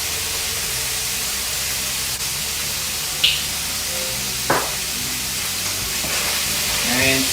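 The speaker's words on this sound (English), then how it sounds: "Cook it up and stir it around." Meat and vegetables for a stir fry sizzle in a pan, a steady hiss of frying with a few light clicks and scrapes of stirring, fairly close and continuous throughout.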